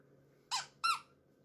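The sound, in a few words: squeak sound effect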